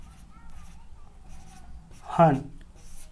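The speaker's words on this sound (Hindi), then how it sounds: "जैसे मोहन को हम कैसे लिख सकते हैं" Chalk or marker writing on a classroom board during a Hindi alphabet lesson, a short scratchy stroke burst under a teacher's ongoing speech.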